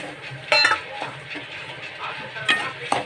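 A spoon stirs semolina roasting in ghee in a pan, giving a few soft scrapes and clinks over a low, steady background.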